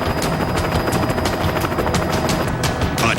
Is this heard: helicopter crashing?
yes